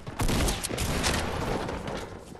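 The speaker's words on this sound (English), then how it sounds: "gunshot coming up behind us." Gunfire from the Fortnite video game comes as a dense, loud flurry of overlapping shots over a couple of seconds, with no talking.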